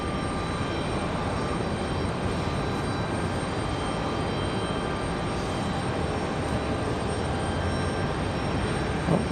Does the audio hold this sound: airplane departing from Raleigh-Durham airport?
yes